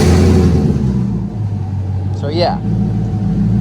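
A turbocharged car engine starts and idles loudly up close with a deep steady rumble, while a person briefly speaks over it.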